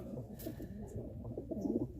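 Soft, low pigeon coos repeat in a gentle rolling rhythm, fairly quiet, with faint background noise and a few distant chirps.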